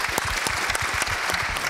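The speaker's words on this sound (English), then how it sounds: "Ladies and gentlemen, a big round of applause to you all" An audience claps at a 50th-anniversary business school panel event, with a dense, steady round of applause of many hands, close and loud throughout.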